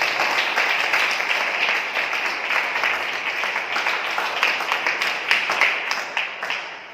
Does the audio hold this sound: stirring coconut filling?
no